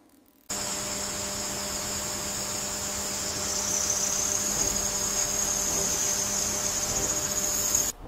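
Crickets near carnivorous plants chirp in a dense, continuous high trill, fairly close and steady, over a faint background hum.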